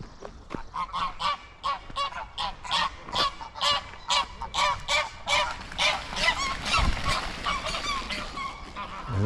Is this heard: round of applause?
no